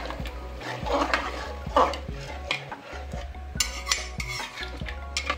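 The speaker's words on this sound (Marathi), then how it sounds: "आणि हे सर्व मिक्स करूया." A spoon scrapes and clinks against a metal pot in repeated stirring strokes as basmati rice pulao is mixed, with a light sizzle underneath and no talking.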